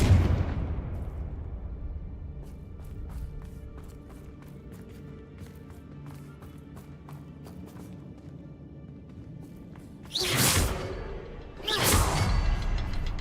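Two sharp fiery blasts of the Confringo spell in Hogwarts Legacy burst out near the end, loud and close, after a quieter stretch of low ambient rumble.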